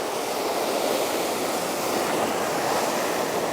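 Heavy swell waves break continuously against the rocky shore of a small island at the southern edge of the sea, a loud, dense wash of surf with wind noise over it and no pauses.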